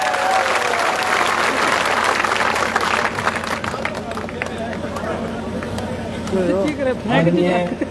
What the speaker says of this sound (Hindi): जोरदार तालियां थमनी नहीं चाहिए।